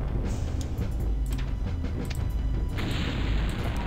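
A mine goes off in a minefield in MechCommander, a deep, rumbling blast under steady low battle noise, with sharper crackling bursts flickering above it throughout.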